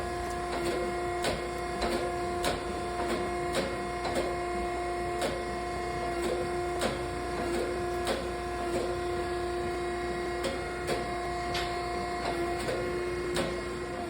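A forging press works a hot Damascus steel billet in a steady run of light, evenly spaced presses over a constant loud mechanical hum, with no voices.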